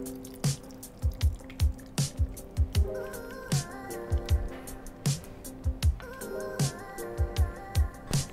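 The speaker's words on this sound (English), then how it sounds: "Then the juice of the orange." Juice squeezed by hand from an orange into a pot already holding gin, for a mussels dish; a string of short wet squishes and drips in an uneven rhythm, close and fairly quiet, with no talking.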